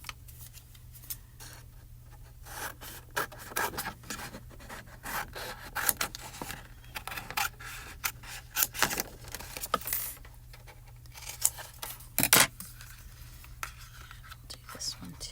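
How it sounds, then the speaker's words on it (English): Scissors rough-cutting paper sentiments for handmade cards at a crafting table, a run of irregular close snips and rustles under quiet, soft talk. "I'm just going to rough cut with scissors"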